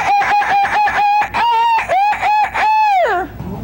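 A person's voice imitates a rooster crowing in a loud, close performance at a barnyard-themed contest: several short clucking bursts followed by two long, rising and falling cock-a-doodle-doo calls, with no other talk.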